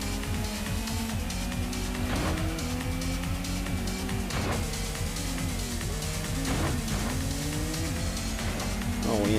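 Sports cars race around a track in Gran Turismo on the PS1, including a Honda NSX and TVRs, with a loud, continuous engine whine rising and dropping through gear shifts and occasional tire squeal.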